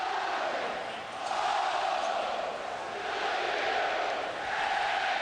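A packed college football crowd at Kinnick Stadium in Iowa roars through Ohio State vs Iowa in 2006, a broad sustained wash of noise that swells and dips in waves from a distance.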